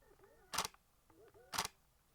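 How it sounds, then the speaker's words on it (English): Two short, sharp mechanical clicks about a second apart from a Nikon Z6 III camera powering on as its in-body image stabilization mechanism engages, close and crisp against a quiet background. "So that sound on the Z6 III is the IBIS mech being activated on startup"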